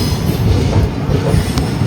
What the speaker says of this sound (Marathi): ऑन टाईम आता आपली ट्रेन पोचणार आहे